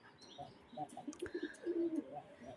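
Pigeons kept on a home balcony give a short run of soft, low coos with a few faint chirps, quiet and close, with no one talking.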